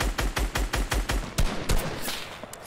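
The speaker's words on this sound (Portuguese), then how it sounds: "Nossa, outra dupla tá atirando aqui." Rapid bursts of gunfire from a rival duo in Fortnite, a quick run of sharp evenly spaced shots followed by a few scattered louder cracks, fairly close and with no talking over them.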